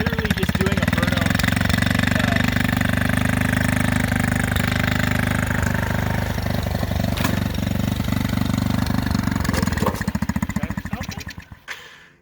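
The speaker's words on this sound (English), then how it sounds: "Literally just doing a burnout." A motorized snow scooter engine revs hard and steady through a burnout, a loud, continuous buzzing roar up close that holds for about ten seconds before tapering off at the end.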